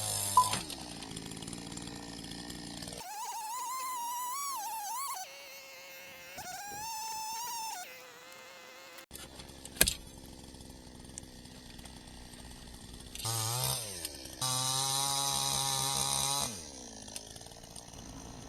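A chainsaw with a dulling chain buzzes in bursts cutting wood in rainy Niigata, revving up and dropping back with sharp shifts in pitch between short quieter gaps.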